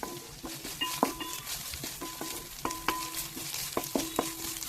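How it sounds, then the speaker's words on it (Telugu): Mint and coriander fry in hot oil with a steady sizzle, while a utensil stirs and scrapes the pan in irregular clinking taps; close and clear, with no talking. "పుదీనా, కొత్తిమీర కూడాను పచ్చివాసన పోయేలాగా వేయించుకోవాలండి మనము ఆయిల్లో."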